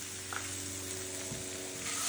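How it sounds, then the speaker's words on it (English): A steady, close sizzle of Brussels sprouts frying in a pan, a soft continuous hiss with faint crackles and no voices. "Our Brussels sprouts, which are still sizzling"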